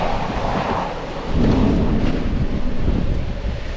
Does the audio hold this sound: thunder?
yes